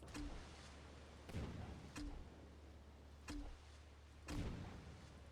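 Torpedoes launching in the naval combat game NavalArt, four sharp muffled booms spaced about a second apart over a steady low engine rumble, each with a brief thumping tail.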